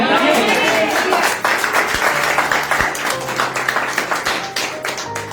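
A church congregation at a Hindi-language sermon claps together, a fast rattling burst of many hands, while a voice talks over the applause.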